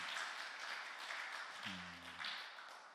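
A youth worship service audience clapping for the worship band, faint continuous applause with a brief low tone in the middle.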